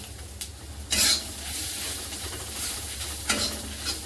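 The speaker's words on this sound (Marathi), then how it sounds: "याच्यातच आपण ज्या लाल तिखट मिरच्या आहेत त्यासुद्धा टाकूया" Dry red chillies roasting in a pan, a close sizzle with a couple of sharper bursts of scraping and stirring against the metal, steady throughout with no talk.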